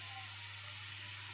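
Onions frying in a pan with a pinch of salt, a steady, close hiss of sizzling with a faint constant hum beneath and no voices.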